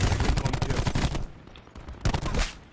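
Rapid gunfire from a controller-played shooter video game, a dense run of loud shots for over a second, a short lull, then another close burst.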